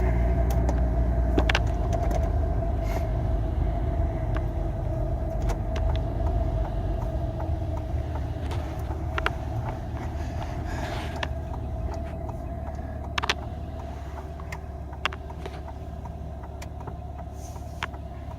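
A car rolls slowly along a residential street on Halloween night at about 10 km/h, a steady low engine and tyre rumble throughout with a few faint light clicks and knocks, no talking.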